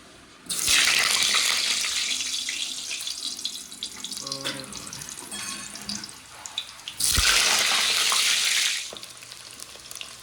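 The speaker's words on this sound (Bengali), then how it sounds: "তেল গরম হয়ে গেছে, আলুগুলো ভেজে নেব।" Potatoes go into hot oil for a chicken curry, giving two loud bursts of frying hiss and sizzle with quieter crackling between them.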